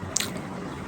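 Someone bites into and chews fried meat close up, making a brief moist squish with a crisp click near the start, followed by soft chewing.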